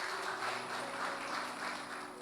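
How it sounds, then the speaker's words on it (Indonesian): Steady applause from a church congregation at GBI Imanuel Aviari Plaza Batam fills the space, a dense, continuous wash of clapping that holds at an even level throughout without breaks. "Tepuk tangan buat Tuhan."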